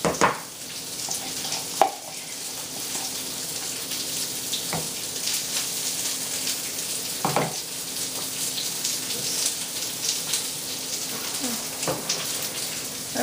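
Chocolate is stirred into frosting in a bowl with a continuous soft scraping and wet churning swish, a close, steady texture broken by occasional light clicks of the utensil against the bowl.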